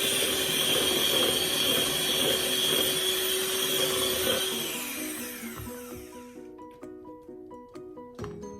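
An electric mixer whisks cake batter for a coconut marble cake, a steady high whir that winds down and stops, leaving sparse clinks of a bowl and utensils.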